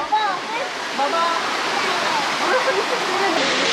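Waterfall in Tatlıca canyon at Erfelek, Sinop, a loud continuous rushing roar of falling water heard close by, with faint voices in the background.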